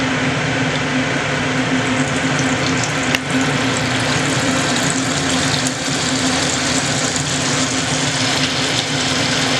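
Butter and oil sizzling in a pan on the stove, a steady loud crackling fry that runs unbroken throughout with no talking.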